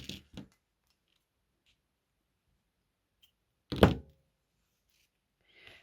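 Scissors trim a yarn tail on a crocheted granny square: two quick, soft snips at the start, a pause, then one louder, sharper close cut with a thunk-like snap.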